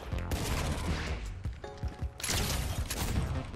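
Bursts of gunfire crackle through a Fortnite match, with rapid volleys and scattered single shots mixed with other game effects, moderately loud and close, with no talking over them.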